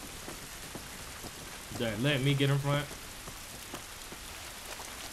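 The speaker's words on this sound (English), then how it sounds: "It's raining." Steady rain patters on a surface throughout, from the video game The Last of Us Part II, with a voice speaking briefly over it in the middle.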